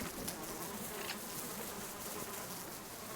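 A swarm of honeybees chases the player in the survival game Subsistence, a continuous close droning buzz that stays even throughout, with no one speaking.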